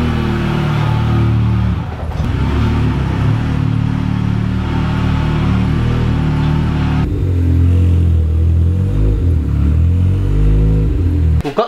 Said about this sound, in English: Here's a cold start on my Sierra